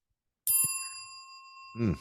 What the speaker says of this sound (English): subscribe, and click the notification bell.